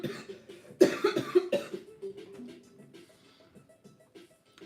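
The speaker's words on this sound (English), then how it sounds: "sorry about the coughs." Several close, harsh coughs from someone recovering from a cold, in a quick burst, followed by quieter throat noises and faint background sounds.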